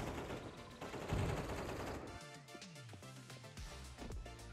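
Rapid gunfire from a Counter-Strike match, a dense burst of game shots followed by sparser cracks and clattering effects, fairly quiet in the mix.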